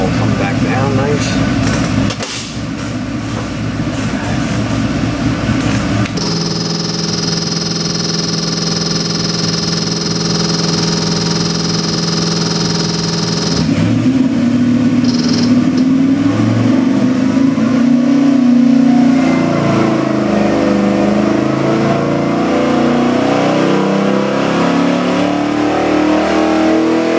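An LS3 427 cubic-inch 700 hp crate engine from Proformance Unlimited idles with a steady, close drone, then is revved repeatedly in the second half, its pitch climbing and falling with each loud blip.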